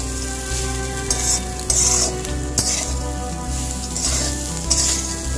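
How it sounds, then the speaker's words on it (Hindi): Rice stir-frying in a pan for saffron pulao, a steady close sizzle broken by repeated scraping and stirring strokes and light clinks of a spoon against the pan. "हमें बस धीरे धीरे चलाना है और इसको थोड़ा सा ऐसे ही फ्राई करना है"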